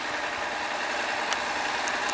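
A tractor engine idles steadily as it arrives towing a plough at a maize field, a continuous mid-range rumble with broadband noise, fairly loud and unbroken, with no talk.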